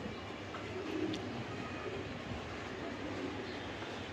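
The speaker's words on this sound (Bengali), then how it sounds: "এটি ইয়ং কবুতর, এটি সব হলো নতুন বার্ড।" Young racing pigeons coo softly in a loft, low murmuring calls heard at moderate distance over a constant, dense background rumble.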